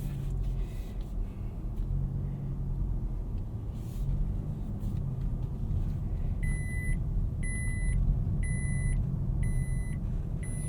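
A 2021 Nissan Altima SR VC-Turbo sounds its seatbelt warning while driving: a series of about five evenly spaced, bright electronic chimes rings over the steady low rumble of road and engine noise.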